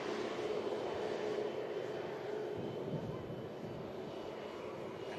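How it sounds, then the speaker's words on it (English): A British Airways shuttle airliner at Manchester Airport gives off a steady, distant rumbling roar of engine noise that fades slightly toward the end, with faint voices in the background. "Ian is on board this British Airways shuttle service back down to London Heathrow on the return leg."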